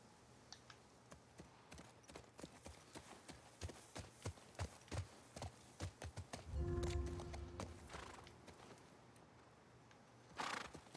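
Steady clip-clop of horse hooves walking in the video game The Last of Us Part II, evenly paced and close, with a louder rumbling burst midway and a brief hiss near the end.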